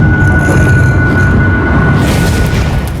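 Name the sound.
explosion in Minecraft, video game sound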